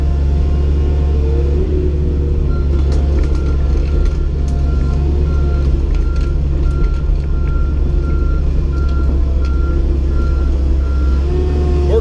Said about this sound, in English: so I use an excavator